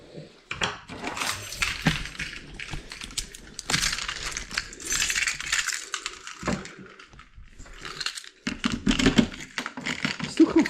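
Car keys for a BMW E36 jingle and clatter in a busy run of small metallic clinks and rattles, close up and continuous, with brief pauses between handling bursts.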